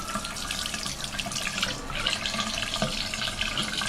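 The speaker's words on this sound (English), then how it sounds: "just clean it under the water till you see that all the dirt is gone" Tap water runs steadily into a sink as a makeup brush is rinsed under it, a continuous close hiss and splatter with no talking.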